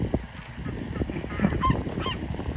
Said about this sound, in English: See the ducks?